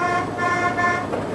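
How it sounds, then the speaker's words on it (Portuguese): A car horn blaring outside in one long sustained honk with a bright, steady tone, fairly loud over a faint background of street noise. "que saco, quem tá buzinando assim?"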